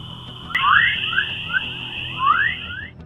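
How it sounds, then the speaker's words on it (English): Space radio signals converted into audible sound come through as a steady high whine with a rapid run of rising chirps and whistling beeps layered on top. The tones are loud and close, and no one speaks. "The result was a cosmic melody that sounds like eerie chirps, whistles, and high-pitched beeps."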